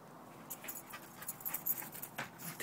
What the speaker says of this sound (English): That's our little border collie, Kaydee.